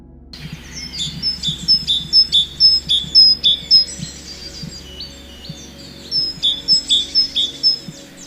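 A small tit chirps close by, singing two series of bright, evenly spaced, repeated notes separated by a short pause, with no other sounds around it.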